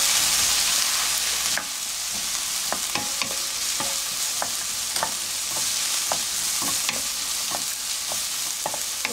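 Garlic, onion and eggplant fry in a pan with a steady bright sizzle, while a utensil scrapes and stirs in repeated short clicks throughout. No one speaks.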